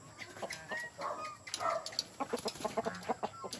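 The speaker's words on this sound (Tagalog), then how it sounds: "Yung dalawang manok." Two chickens cluck softly nearby, a run of short, quick clucks growing denser toward the end, with a few higher chirps mixed in over a faint hiss and no talking.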